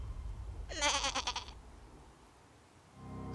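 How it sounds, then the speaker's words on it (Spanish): A small goat gives one soft, quavering bleat lasting about a second. It is close and gentle against a low, quiet background. "un balido suave e inocente se escuchó a mis espaldas"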